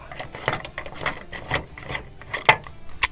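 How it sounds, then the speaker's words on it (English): Screw being unscrewed on a VW bus, a close, quiet series of irregular clicking, ratcheting turns with small scrapes, repeated over a few seconds, with no talking. "And we unscrew."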